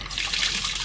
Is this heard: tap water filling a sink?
yes